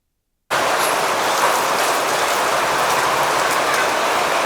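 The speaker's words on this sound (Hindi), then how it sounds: "बारिश का यहाँ आजकल कोई भरोसा नहीं रहता, कभी भी आ जाती है भाई।" Steady rain falling at night, beginning abruptly and continuing as a loud, even wash of hissing noise without pause.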